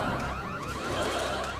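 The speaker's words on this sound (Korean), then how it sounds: "여러분 공습 경보입니다." Siren-like electronic wail sounding as an air raid alarm effect, a steady continuous tone with sweeping pitch filling the moment at moderate level, with no talk over it.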